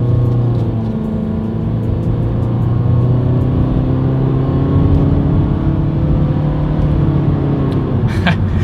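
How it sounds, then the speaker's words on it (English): A 2020 Honda Fit accelerates up to speed, its engine drone heard from inside the cabin as a loud, continuous hum that holds steady with slowly shifting pitch, ending with a brief higher whine. "Let's see how quickly we can get the new 2020 Honda Fit here up to speed."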